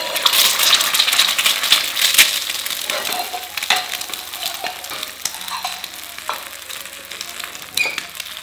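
An egg fries in an iron frying pan over lowered heat, giving a continuous crackling sizzle with scattered pops and small clinks throughout.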